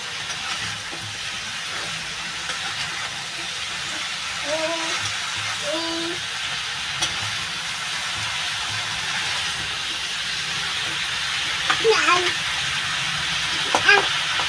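Dried shrimp curry sautéing in a covered pan, a soft continuous sizzle and hiss of frying with occasional clinks and scrapes of a utensil and a couple of faint voices in the background.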